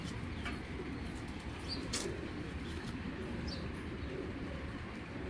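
Giribaz pigeons coo softly among the birds, with a few brief chirps and wing flutters over a steady low background hum; no one talks.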